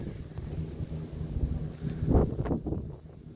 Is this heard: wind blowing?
yes